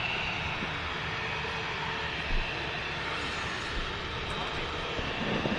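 An EasyJet airliner lining up on the runway for a flight to Kos, its jet engines giving a steady, distant broadband roar with a faint voice briefly over it.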